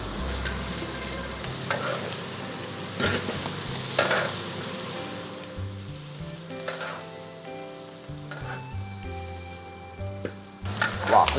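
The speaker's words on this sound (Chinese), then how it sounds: "青椒下锅，" Green peppers stir-frying in a wok with lard, pork head meat, Sichuan peppercorns and doubanjiang, sizzling steadily under repeated scrapes and tosses of the spatula, close and fairly loud, with no talking.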